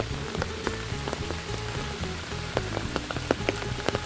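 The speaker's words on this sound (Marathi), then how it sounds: "पाऊस जरा थांबून दे पाऊस थांबल्याशिवाय नाही पकडतो" Steady rain falls on a surface outdoors at a fishing spot, a dense continuous patter with scattered louder drops, moderately close and heard alone without talk.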